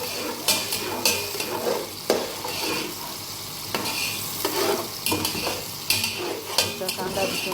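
Onions sizzle in a pan for Arabic-style mandi rice while a utensil stirs and scrapes, making repeated clinks and scrapes over a loud, steady frying hiss.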